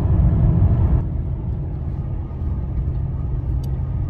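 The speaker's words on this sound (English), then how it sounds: "there is still a bit of a burble, a bit of a misfire down low" A Lexus LS430 engine with a slight misfire down low runs with a steady, close low rumble and uneven burble, louder for the first second before settling to a lower drone.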